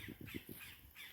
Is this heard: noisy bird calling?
yes